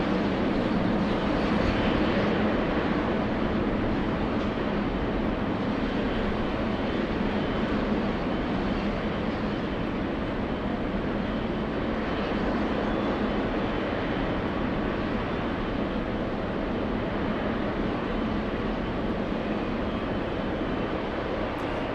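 An All Nippon Airways Boeing 777 arrives at LAX with a loud, continuous jet roar and rumble that stays strong and unbroken, with no talk over it.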